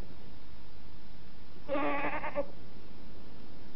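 A single goat bleat, a short wavering cry heard once amid quiet background hiss, fairly close and alone with no talk over it.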